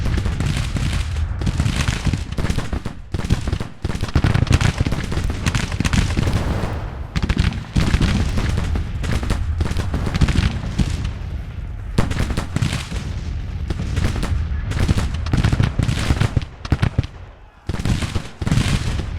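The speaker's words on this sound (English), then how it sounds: "Artillery!" Artillery fire in the Civil War strategy game Grand Tactician: The Civil War, with Confederate forces in battle: loud, dense, continuous booms and gun volleys, layered and rolling, with talk briefly underneath.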